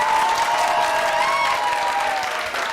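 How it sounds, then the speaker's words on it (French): An audience applauds loudly for a microfinance school at a morning gathering, a steady wash of clapping from many hands that holds throughout with a faint cheer. "Je vais demander à l'école supérieure de la microfinance de s'applaudir très fort"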